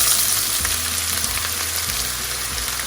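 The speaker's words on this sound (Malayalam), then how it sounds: "ഇനി നമുക്കിതിലേക്ക് ചോപ്പ് ചെയ്ത് വെച്ചിരിക്കുന്ന സവാള ചേർത്ത് കൊടുക്കാം." Chopped onion frying in a pan with cumin for chicken tikka masala, a loud, continuous close sizzle with a couple of soft stirring scrapes.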